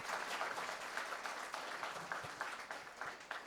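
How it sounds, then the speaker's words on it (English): Audience applause at a talk on India's gig economy, a steady mid-level wash of clapping hands with scattered individual claps standing out, no voices over it. "please give her a loud applause."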